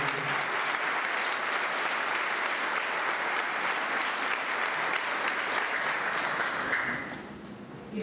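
A church congregation applauding during a Maundy Thursday foot-washing Mass: a steady, dense wash of clapping from many people, loud and unbroken for several seconds before tapering off at the end.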